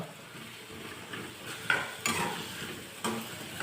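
Pounded spice mix tipped into a hot pan in a village kitchen, sizzling steadily with a few sharp scraping stirs of a utensil against the pan.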